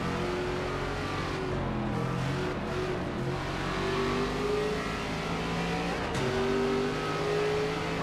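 An ARCA race car engine in the NASCAR 25 video game drones and revs continuously, loud and steady, with its pitch rising and falling as the car runs laps.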